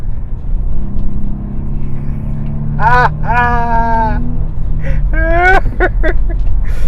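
A car with a 272 engine drones low and rises as it accelerates, with a raspy rising whine from the exhaust layered over the steady road rumble.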